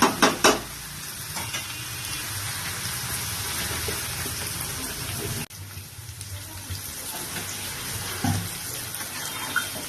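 Water poured into a pan of frying chicken curry, a rushing hiss and sizzle that holds steady, drops sharply midway, then settles into a softer bubbling simmer with a few clinks.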